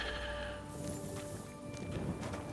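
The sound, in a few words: horse neighing in the video game Kingdom Come Deliverance 2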